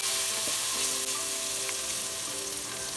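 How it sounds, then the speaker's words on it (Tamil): Ginger garlic paste and onions sautéing in a pan for a kodo millet chicken biryani, an intense steady sizzle with stirring scrapes and clinks, close and loud, no talk. "இஞ்சி பூண்டு பேஸ்ட்டையும் வெங்காயத்தெல்லாம் போட்டு நல்லா வதக்கணும்"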